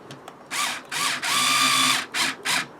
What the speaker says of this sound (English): Once the first screw is located, it makes it a lot easier to then get the tension on the belt.